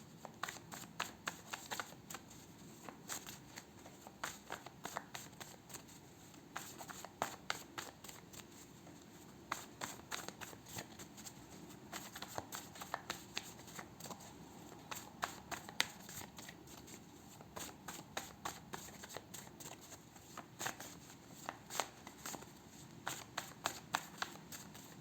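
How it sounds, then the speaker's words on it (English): Tarot cards are shuffled by hand for a long stretch, with quiet, rapid riffling and crisp card flicks close to the listener and no talk. "I'm gonna pull some health and lifestyle cards for you."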